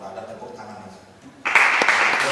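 Church congregation at a Sunday service in Palangkaraya bursting into applause, a sudden loud wash of clapping that starts partway through after a quieter stretch of murmuring voices.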